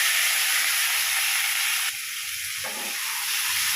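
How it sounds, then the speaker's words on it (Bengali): Marinated raw rohu fish poured into hot oil tempered with cumin and chilli, a loud sustained hiss and sizzle that briefly drops and shifts as the fish hits the pan, then continues steadily. "এবার মাখিয়ে রাখা মাছটাকে আমি ঢেলে দিচ্ছি।"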